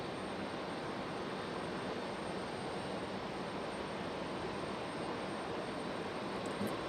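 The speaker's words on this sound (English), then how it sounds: "Yes, they are the old MDs. It's the old MD-80." Old McDonnell Douglas MD-80 jet airliner at Raleigh-Durham airport in stormy weather, a steady, faint broadband jet engine roar held evenly throughout, with no voices.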